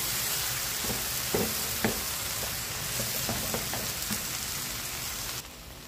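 Ginataang monggo ingredients sautéing in a pan, a steady close sizzle and crackle with occasional sharper pops and stirring knocks, no voices.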